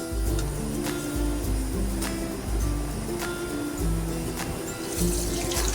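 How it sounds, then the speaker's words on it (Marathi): A few drops of water hit hot homemade ghee and set off a steady bubbling crackle. Sharp little pops and spits stand out over the continuous frying noise. "हे बघा असं पाणी टाकलं की आवाज येतो म्हणजे आपलं तूप अगदी परफेक्ट तयार झालेलं आहे"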